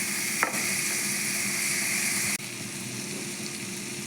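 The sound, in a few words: tomatoes frying with turmeric, salt and chilli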